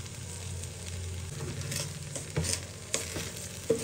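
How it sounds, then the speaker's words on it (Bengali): Salt, turmeric, cumin powder, crushed ginger and sugar are stirred and fried together in a pan, giving a soft steady sizzle with scraping spoon strokes and clicks that grow sharper toward the end. "সবকিছু একসাথে খুব ভালো করে এবার মিশিয়ে নেব"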